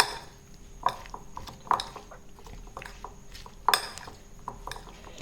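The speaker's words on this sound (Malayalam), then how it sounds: "അതിനായിട്ട് നമുക്കിതുപോലെ ഒന്ന് നന്നായിട്ടൊന്ന് ഇളക്കിയെടുക്കാം." A spoon stirs paneer and vegetables with masala in a pan for paneer tikka masala, making soft scraping with a few sharp metallic clinks and clanks against the vessel at irregular intervals, close and without talk.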